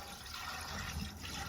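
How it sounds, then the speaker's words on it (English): Water tipped through the condensate trap of a Worcester Bosch gas boiler, a short close splashing gurgle of liquid draining through the trap. "And we can tip a couple of litres of water through there as well."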